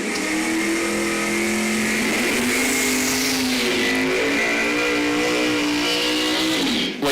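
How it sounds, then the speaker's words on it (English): Drag racing cars roar through burnouts at Numidia Dragway in a loud, sustained engine howl whose pitch climbs and wavers over several seconds, then cuts off sharply near the end, with no talk over it. "Waiting for those burnouts to finish."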